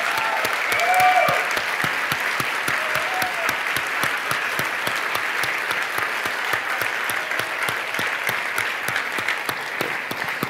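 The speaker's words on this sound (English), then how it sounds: "Stand up and give him a round of applause," A standing audience at a chiropractic event gives Dr. Jerry Klum a loud, sustained round of applause, with dense crowd clapping holding steady for the full stretch and a rhythmic pulse of claps beneath it.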